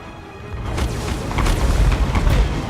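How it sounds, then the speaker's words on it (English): Bolt throwers firing at a gate in the Total War: Warhammer 2 video game, a deep rumbling boom with a low, sustained roar of battle noise that grows louder, with no talk. "let's get my bolt throwers ready to shoot through."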